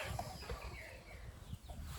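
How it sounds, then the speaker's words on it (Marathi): Hens cluck and murmur softly on a farm at dusk, a few short, faint calls scattered through quiet background noise. "कोंबड्या कुरकुर करतात"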